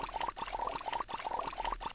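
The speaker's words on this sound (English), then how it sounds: "Please turn on the water for me, neighbor." Water running from a tap in a Daniel Tiger's Neighborhood game during handwashing, a steady close splashing pour with a bright rhythmic trickle, no talk.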